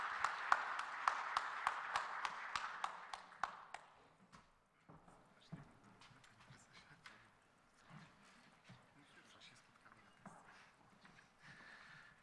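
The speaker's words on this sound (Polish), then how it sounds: "Prosimy o brawa" An audience at a bathroom industry awards gala applauds in rhythmic unison claps that stay strong for about four seconds and then fade into scattered clapping, with voices speaking quietly underneath.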